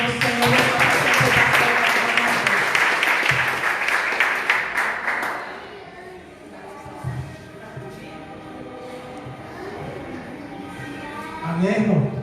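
Church congregation applauding together during a family worship service, a loud, dense burst of clapping that fades after about five seconds, followed by quieter room sounds and a short renewed swell near the end.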